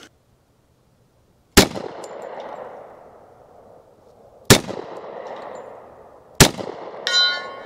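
Three loud .45ACP shots from a Hi-Point 4595TS carbine ring out spaced apart, each followed by a long decaying echo, with a faint metallic ping from a steel target at 100 yards.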